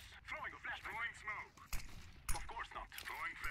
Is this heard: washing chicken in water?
no